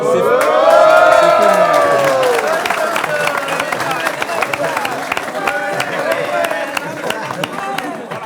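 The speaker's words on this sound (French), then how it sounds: "Applaudissements." An audience breaks into loud applause and cheering, with voices calling out over the clapping at first before it settles into sustained, slightly fading clapping.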